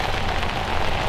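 Rain falls outdoors as a steady, close hiss on a surface, dense and continuous with no voices.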